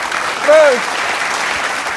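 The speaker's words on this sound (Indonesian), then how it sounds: "Tepuk tangan." Children's group applause at a small birthday gathering with orphaned kids, a steady patter of clapping under a brief spoken word and a short voiced cheer.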